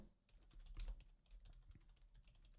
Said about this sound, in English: I'm typing out the translation